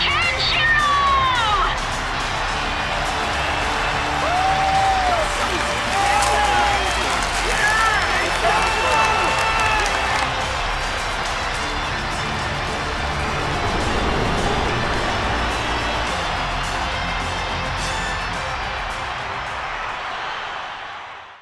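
Coliseum crowd in the Fist of the North Star video game roars continuously as a dense, steady wash of cheering, with scattered whistles and synthetic game effects sweeping over it throughout.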